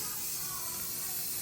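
A rattle can of spray paint sprays onto a truck, a steady close airy hiss with no break across the short stretch.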